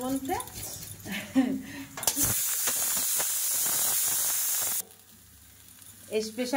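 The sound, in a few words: soaked rice frying in a pan for khichdi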